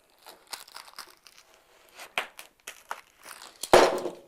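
Foam pipe insulation is cut at a 45-degree angle with a series of close, scattered crunching and crinkling snips, quiet at first and ending in one louder sharp crunch.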